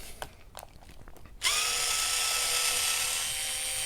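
Cordless impact gun on a wheel nut: a few light clicks and taps, then the tool starts abruptly into a loud, sustained high-pitched whirring run that holds steady to the end.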